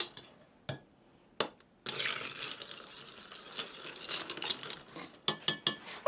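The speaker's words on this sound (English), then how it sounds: "So I'll just give them another stir." Spoons stir ice in cocktail glasses, mostly an orange ginger shrub mule with vodka, making a run of close clinks and rattles, sparse at first and then busier, with no talk.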